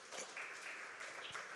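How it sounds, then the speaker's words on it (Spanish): A church congregation claps in applause during a sermon, a soft, diffuse patter of many hands heard from a distance, steady and fairly faint throughout. "Denle un aplauso a Dios"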